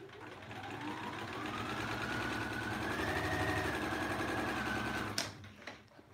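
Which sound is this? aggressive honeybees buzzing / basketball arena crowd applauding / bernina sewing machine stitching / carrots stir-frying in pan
bernina sewing machine stitching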